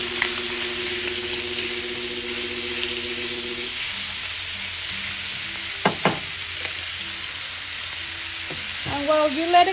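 Food fries in a very hot pan with a constant bright sizzle and hiss throughout, a low hum underneath and a couple of brief clinks near the end.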